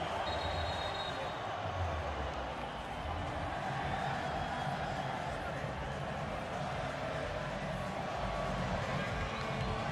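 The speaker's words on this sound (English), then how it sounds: "Crowd continues to voice the support of El Salvador" A football stadium crowd at a Concacaf Gold Cup match between Panama and El Salvador roars in a dense, constant wash of cheering and noise, with a commentator talking over it throughout.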